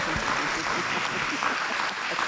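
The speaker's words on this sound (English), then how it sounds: "Please give a round of applause to Miss June Wood, former commission chair." Audience applause for a former county commission chair at a Women's History Month honoring event, a dense steady wash of many hands clapping throughout.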